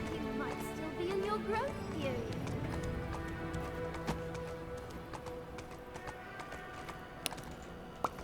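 Rapid clip-clop of a horse galloping across the ground in the online role-playing game Black Desert Online, with steady game music and ambience behind the hoofbeats.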